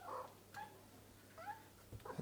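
A black blind cat meows softly three or four times, short plaintive calls spaced apart over a faint low hum, close but quiet.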